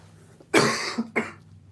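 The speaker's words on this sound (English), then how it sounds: "I've had a cough the last couple of days" A cough, one harsh burst followed by a shorter second one, close and clear against a quiet background hum.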